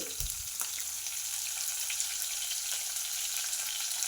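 Green chillies and curry leaves sizzle steadily in hot oil, a close, continuous frying crackle with faint hiss throughout, for a North Karnataka style girmit.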